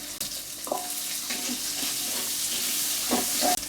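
Capsicum and spring onion leaves sautéing in a pan for a Thai prawn curry, a steady moderate sizzle with a few soft spatula scrapes and stirring knocks, close by, with no talk.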